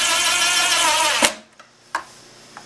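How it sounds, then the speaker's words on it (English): A drill driver with a long extension and a number 3 Phillips bit seats screws on a toilet pedestal, whirring steadily up close before stopping, followed by a few sharp clicks and knocks. "I'm going to use this drill driver with a long extension and a number 3 Phillips to go ahead and seat these screws"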